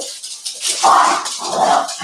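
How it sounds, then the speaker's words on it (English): Several dogs bark indoors, a couple of sharp, loud barks and yelps in quick succession, close by, with no speech over them. "our dogs are going mad again now"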